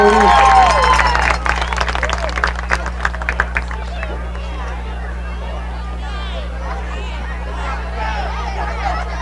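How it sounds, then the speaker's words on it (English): Crowd applause at a varsity football game, a burst of clapping and cheering that fades into a steady murmur of stadium crowd noise over a constant low hum. "give them another big round of applause"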